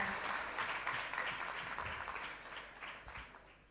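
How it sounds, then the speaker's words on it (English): Audience applause for conference panelists at a law conference inauguration, a steady wash of many hands clapping that stays fairly even, then thins slightly toward the end. "Can we have one big round of applause for our panelists"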